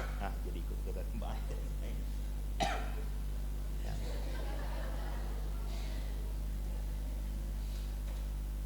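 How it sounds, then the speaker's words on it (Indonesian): Scattered coughs and throat clearing from a church congregation during a Sunday service sermon, a sharp cough standing out near the middle over a steady hum and faint murmuring. "Pas ngomong kemiskinan ini batuk semua."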